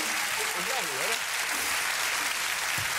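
A studio audience at a late-night talk show applauds in a dense, continuous wash of clapping throughout, while someone speaks over it in the first second.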